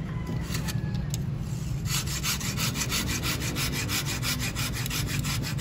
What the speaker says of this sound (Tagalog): Lagarin mo rito. Sa ilalim.